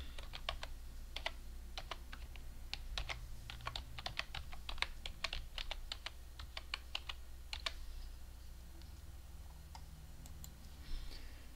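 Fingers type on a computer keyboard, entering an email address, as a quick burst of light, close clicks in irregular rhythm that thins out and stops after about eight seconds, with a few stray taps later.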